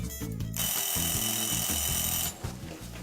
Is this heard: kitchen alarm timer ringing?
yes